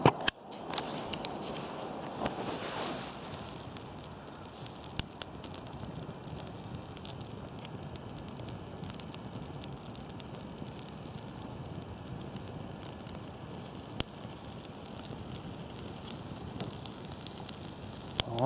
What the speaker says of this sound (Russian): Веточки шипят, поскольку все-таки зима.